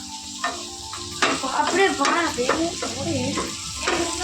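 Oil frying hot in a home kitchen, a crackling sizzle with repeated stirring and scraping strokes close by, while a voice talks faintly underneath.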